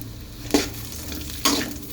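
Onions frying in a pan while being stirred, a soft continuous sizzle broken by two brief scraping stir strokes, close and alone.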